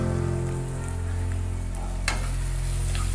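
A salted spice paste for sambar fries in a pan with a dense, continuous crackling hiss, rain-like and even throughout, with one brief scrape partway through.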